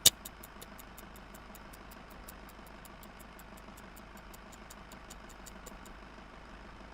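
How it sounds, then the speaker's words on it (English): A steady, low car engine idle in the video game BeamNG.drive hums continuously with a faint, regular ticking on top, fairly quiet and unchanging throughout. "When you start your car, does the engine make a noise like this?"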